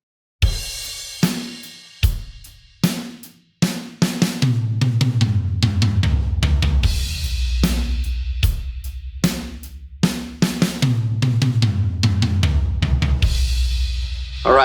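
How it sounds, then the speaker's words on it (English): An acoustic drum kit plays a practice fill that starts on the snare and moves down around the toms on every beat, opening with a few separate hits and then a dense, steady run of strokes. "We'll start on the snare, and then we'll move right down the toms."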